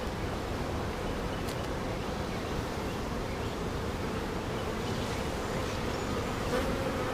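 Honeybees from a strong, nectar-heavy hive during a mid-June inspection, a dense, continuous buzzing swarm hum, loud and close, steady throughout.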